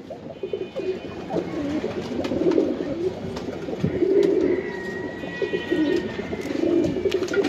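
Giribaj pigeons of the Palla line cooing in a loft, with repeated soft, throaty coos rising and falling in waves, close by and steady, over a faint background rustle.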